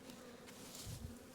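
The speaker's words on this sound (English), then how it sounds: "we have a cluster of bees right here in the center" Honeybees hum steadily in a hive box with a cluster gathered at the center, a soft continuous buzz with a slight swell near the end.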